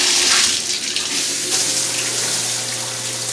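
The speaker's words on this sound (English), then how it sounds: "Shower works good." Water streams from a shower in an apartment bathroom during a move-in check, a steady close hiss and spray with a low hum underneath throughout.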